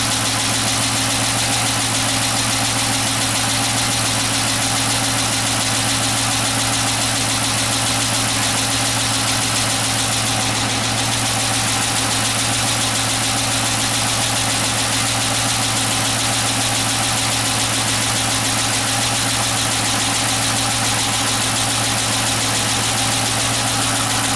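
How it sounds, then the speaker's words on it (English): Chrysler 300 engine idling with a misfire, a steady, close low-pitched hum with constant mechanical drone holding unchanged throughout, alone without voices. "I'm just going to leave it idling for about 10-15 minutes and then we'll see what happens."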